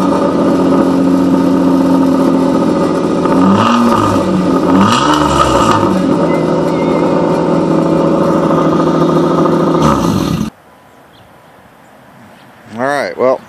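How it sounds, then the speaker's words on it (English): A 2006 Mitsubishi Eclipse GT with its muffler internals blown out runs loud and raspy, idling with a couple of blips of revs, then cuts off abruptly, leaving quiet before a brief rising sound near the end. "for those of y'all been wondering what my car sounds like after my muffler blew all the crap out of it, here it is"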